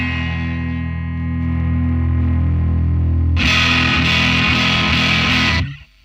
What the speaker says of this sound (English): And if you mess up with the level, you can have like some distortion out of it too.